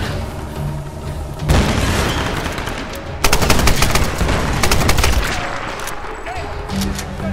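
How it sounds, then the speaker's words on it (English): Gunshots in the video game Tomb Raider arrive as loud, close bursts of rapid fire and booming blasts, layered over continuous game noise with some talk. "I was just shot four times, but that's fine."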